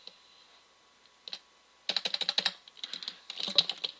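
Keyboard typing to erase text, heard as a few isolated taps followed by dense bursts of rapid clicking keystrokes, fairly close and alone without speech.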